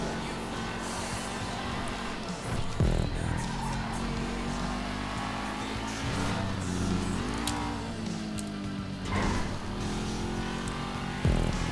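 Muscle car in Grand Theft Auto V driving with a steady, loud engine drone that rises and falls through gear changes and revs, with a few sharp impact thumps along the way.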